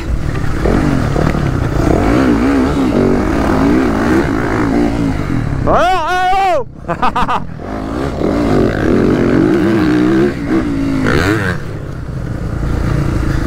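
A motorcycle engine revs hard and accelerates during an enduro race, loud and close, with a brief rising whine in the middle and a French voice speaking over it.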